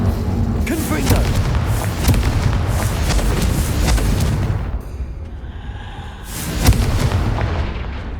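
Confringo explosive spell blasts in the video game Hogwarts Legacy, heavy booming bursts over a continuous loud rumble, a brief quieter gap, then another sharp blast, with some voice mixed in.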